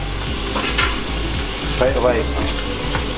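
Loud, continuous sizzling of steak searing in a smoking-hot oiled pan, crackling and spitting throughout, with a brief spoken remark over it.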